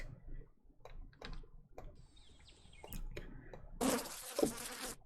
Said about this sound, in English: Does anybody find the noise of bees very pleasant?